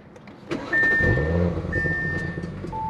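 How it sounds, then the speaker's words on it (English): A 2022 Audi S4 starts from inside the cabin: a brief crank, then a loud burbling flare that settles into a steady idle, with a chime sounding twice over it. "Love that little startup burble."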